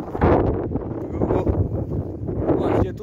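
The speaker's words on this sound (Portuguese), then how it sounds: "E o vento aqui é grande demais." Strong wind blowing outdoors on a high rooftop in Brazil's Northeast as rain approaches: a loud, continuous low rumble of gusts buffeting the microphone, swelling and easing over the whole stretch.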